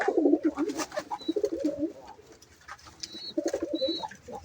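Pigeons coo in soft, repeated low bursts close by, with brief pauses and a few faint chirps in between.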